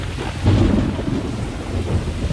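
A heavy rainstorm with thunder in a period drama: a dense, steady roar of rain with a low thunder rumble swelling near the start, with no voices.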